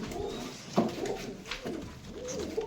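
Pigeons in a pigeon loft coo softly and close by in several short, throaty phrases, with faint rustling between calls and no talking.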